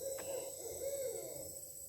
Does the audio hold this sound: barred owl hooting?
yes